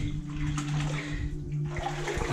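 Water sloshes and splashes around legs wading through a flooded tunnel or cave after a collapse, a steady close wet churning with a low hum running underneath.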